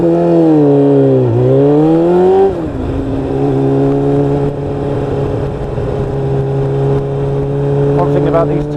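A Kawasaki ZX7R motorcycle accelerates hard along the A5, its engine loud and close, pitch dipping and rising before settling into a sustained high-revving drone with wind rush.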